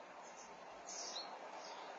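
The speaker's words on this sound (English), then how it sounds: "There's literally loads of birds flying around." Many small birds chirp and tweet together in a tree, a faint, continuous high twittering over steady outdoor background noise, with no clear single call standing out.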